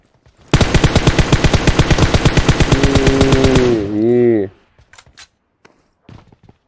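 Rapid automatic gunfire in the battle royale game PUBG, a loud sustained burst of about three seconds that ends in a lower swelling whoosh, followed by a few faint scattered clicks.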